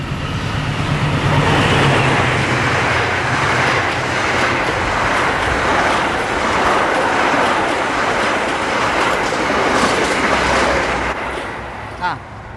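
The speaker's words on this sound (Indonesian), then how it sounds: "Sebentar ada kereta, suara gua ketutup." A train in Bekasi, Indonesia, rumbles past loudly and steadily for several seconds, a broad roaring wash with faint rhythmic clatter, before fading out at the end.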